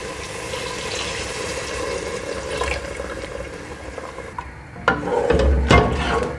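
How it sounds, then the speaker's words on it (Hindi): Water poured back into a simmering chicken gizzard and liver curry in a pan: a soft continuous liquid splash and sizzle with a louder gush of pouring and stirring near the end, close by. "अब जो पानी मैंने इससे निकाला था ना वही पानी दोबारा मैं इसमें डाल रही हूँ।"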